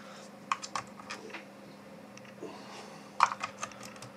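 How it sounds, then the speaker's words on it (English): A memory card is pulled out of a running SIDE3 cartridge and pushed back in, giving a few small sharp plastic clicks spread apart, close and faint against a quiet room hum. "We can take cards out while the loader is running and pop another card in its place."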